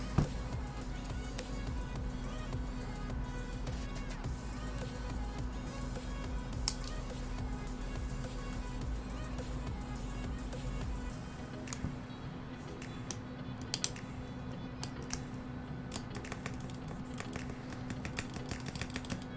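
Keystrokes on a mechanical keyboard fitted with lubed Tealios switches come as soft, rapid, irregular clacks, faint and steady over a low background hum that drops away partway through.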